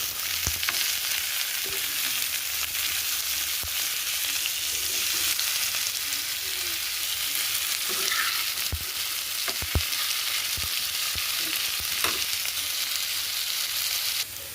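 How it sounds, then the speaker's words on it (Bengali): Potato and onion pieces fry in hot oil on a tawa with a steady, dense sizzle that fills the whole stretch, close-up and even, with a few faint clinks of utensils now and then and no talking. "তাওয়াতে তেলটা গরম হয়ে গেলে আলু পেঁয়াজ দিয়ে ভেজে নেব"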